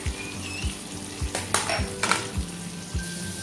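Three onions frying in a pan with oil, a steady sizzle under repeated metal clinks and scrapes of a spoon stirring and tapping the pan, close and moderately loud with no talk.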